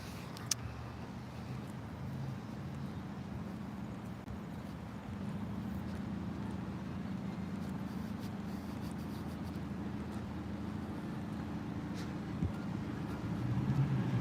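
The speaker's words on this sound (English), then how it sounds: "There's the engine sound right there." A car engine hums as a faint, steady low rumble on a roadway, continuous throughout with a slight swell near the end and a few tiny clicks over it.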